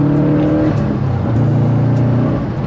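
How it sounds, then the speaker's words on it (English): A Subaru WRX STI hatchback with about 104k miles revs its engine during a downshift to third gear, a loud, close, steady mechanical roar that dips and climbs briefly, with no talking. "if I downshift to third"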